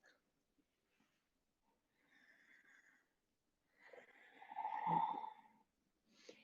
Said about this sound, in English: You can engage a little ujjayi breathing, slightly constricting your glottis.